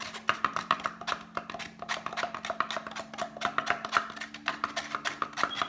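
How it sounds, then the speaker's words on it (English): Slime glue solution being stirred with a mixing tool from a slime kit, giving a steady run of close, soft tapping and scraping strokes in an even rhythm over a faint background hum. "I just start myself off mixing with this tool."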